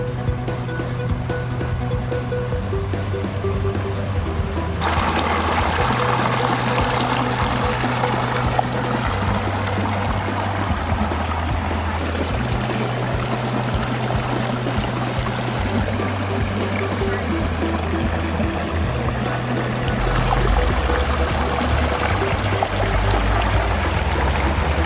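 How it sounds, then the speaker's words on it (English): A steady, full rush of falling water splashing continuously from a backyard pondless waterfall, with a low repeating musical tone running underneath. "Beautiful pondless waterfall."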